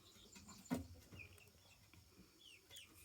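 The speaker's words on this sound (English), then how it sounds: "There you go, chickens, if you're hungry." Backyard garden chickens cluck while being fed, with one sharp, louder squawk early on, then softer scattered clucks and faint chirps close by.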